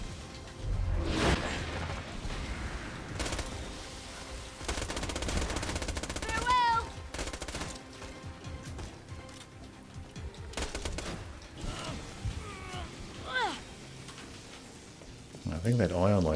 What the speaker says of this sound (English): I think that ion loader got a shot off on me